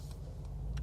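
Deep, steady low-frequency rumble from the exhaust of a 2019 Mercedes-Benz G63 in Las Vegas, close and continuous over a brief moment with no clear rise in revs.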